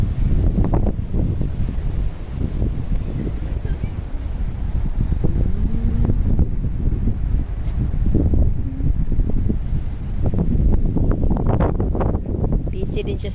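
Strong wind buffeting the microphone outdoors at Keukenhof flower gardens in the Netherlands, a loud continuous low rumble with gusting surges throughout, under intermittent talk.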